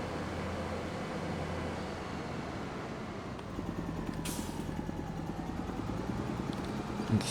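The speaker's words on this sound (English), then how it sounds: "It's actually quite a fast tractor" A fast tractor engine drives steadily toward a dairy farm on Rottumer Island in a farming game, a continuous low rumble with a slightly rougher, pulsing texture in the second half.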